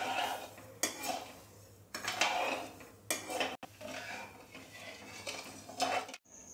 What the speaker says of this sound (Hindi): तो हम लगातार चलाते हुए चाशनी को बना लेते हैं।